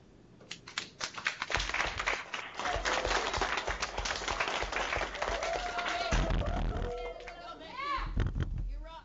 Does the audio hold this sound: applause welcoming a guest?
yes